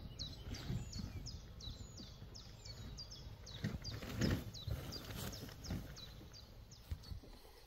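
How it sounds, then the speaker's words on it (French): Outdoors on a van holiday, birds sing in nature with repeated quick chirping phrases at a steady pace, faint over a low background that includes occasional hoof-like thuds. "Observer la nature au son du chant des oiseaux."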